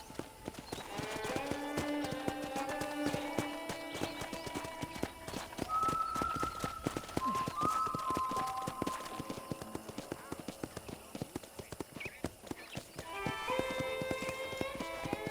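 Steady hoof clip-clop of a trotting horse in the video game Red Dead Redemption, rhythmic and close, with bright tonal game music playing over it and no talking.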